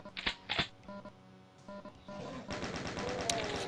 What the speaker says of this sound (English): we get pumped full of holes with chain gunners from every direction